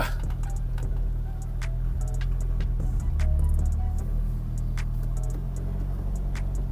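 A Nissan Skyline R34 GT-R engine idles steadily after starting, a deep continuous rumble with a slight swell in the middle and faint ticking clicks over the top.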